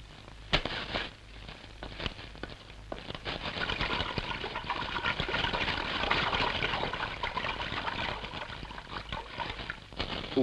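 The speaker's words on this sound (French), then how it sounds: "Le blé, qui ne trouve plus d'acheteurs, est précipité dans la mer." Wheat dumped into the sea during the 1929 crisis, heard as a continuous faint splash and trickle of water with scattered crackles and knocks, rising in the middle and fading toward the end.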